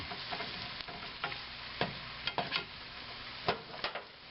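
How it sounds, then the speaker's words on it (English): Breakfast food frying in a pan after being flipped, a soft steady sizzle broken by scattered crackles and pops, quiet and close with no talking. "turn it over to the other side and let that side cook."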